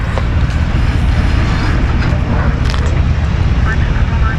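An airplane taking off from runway 32 at Zurich airport, a loud broad roar of engines held steady for several seconds, with voices talking over it.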